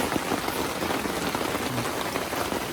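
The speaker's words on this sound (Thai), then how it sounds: "ตอนนี้ฝนตกตกลง" Steady rain pours down on a mountain in Yala, Thailand, a dense hiss of drops pattering on a surface with no pauses.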